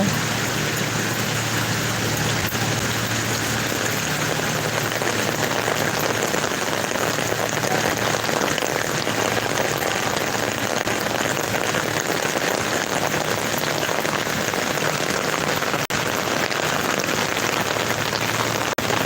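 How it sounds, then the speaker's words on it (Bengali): Heavy rain and storm pour down steadily in Dhaka, a dense, loud hiss of drops drumming on surfaces that continues without pause. "তুমুল ঝড় বৃষ্টি হচ্ছে"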